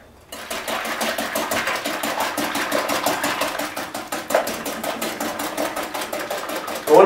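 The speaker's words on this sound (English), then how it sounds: "What we do is give that a quick whisk." Egg whites with a pinch of salt are whisked briskly in a bowl, a fast, even rattling tick of the whisk against the sides that carries steadily for several seconds at close range.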